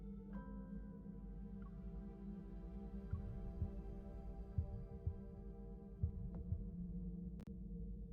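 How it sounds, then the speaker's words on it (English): Slow, muffled heartbeat thumps in the video game Love and Deepspace, a series of soft low pulses spaced under a sustained droning hum of game music, with no voices. "There's a heartbeat."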